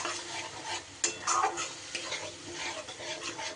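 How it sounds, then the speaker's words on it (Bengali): Yogurt gets stirred into a sizzling pan of frying spice masala, a steady hiss with scraping spoon strokes and a brief clatter near the middle, close and fairly loud, with no voices. "দইটা দিয়ে ভালো করে মিশিয়ে নিয়ে আবারও কিছু সময় আমি ভালো করে কষিয়ে নেব।"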